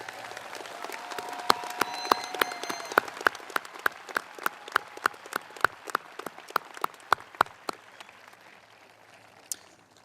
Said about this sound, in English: Please take a moment to give a round of applause